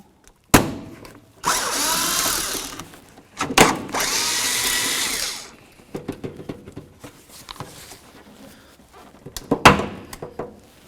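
A power drill with a T30 Torx bit backs screws out of the lower bumper cover of a 2009–2016 Mercedes-Benz E350. It runs in a few close, loud whirring bursts, with clunks and handling knocks in between and no talking.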